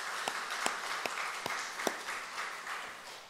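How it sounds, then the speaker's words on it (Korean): Light, scattered clapping from a small church congregation during an evening service, with a few sharper individual claps standing out, fairly soft and steady for a few seconds. "우리 한번 박수 한번 보낼게요"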